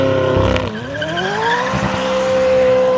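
A McLaren 600LT doing a rolling burnout on a street: a loud, sustained tire squeal that dips and then rises in pitch over the roaring engine, close by.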